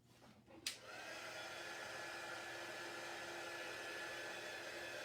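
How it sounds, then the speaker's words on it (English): Heat embossing tool switched on to dry chalk paste on a porch sign, a sharp click followed by a steady, close, whooshing fan-heater blast that holds evenly to the end. "I'm using a heat tool to dry this chalk paste, and this should dry fairly quickly"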